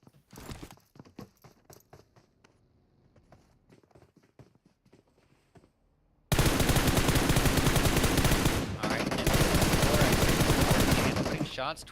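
Gunfire in the PUBG Mobile battle royale game during a North American esports match: scattered rapid shots and clatter at first, then a sudden dense wall of loud, continuous noise that fills the rest.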